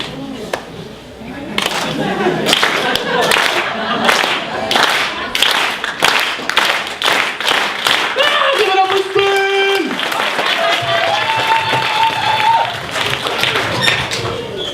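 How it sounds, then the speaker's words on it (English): A crowd at a Toronto arts event does a unity clap, sharp beats in unison that quicken into a rapid burst, with voices and a sustained tone sounding partway through. "Let's do that unity clap again"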